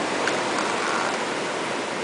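Ocean waves crashing along a Mexican shore, heard from a small balcony as a soft, continuous broadband wash of surf, fairly faint and steady with no voices.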